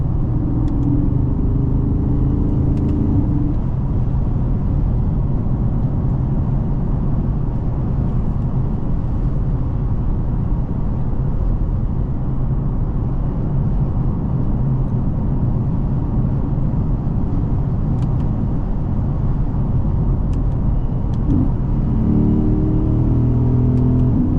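Continuous engine drone from inside a 2013 Porsche Panamera GTS with over 100,000 miles, steady low rumble and road noise throughout, with brief shifts in engine tone near the start and end.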